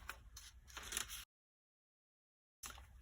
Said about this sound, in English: so I will cut a circle